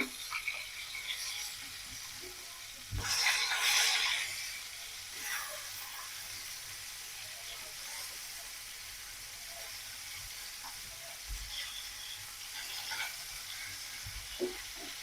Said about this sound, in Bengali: মাছ এক পিঠ হয়ে গেছে, উল্টাই দিব।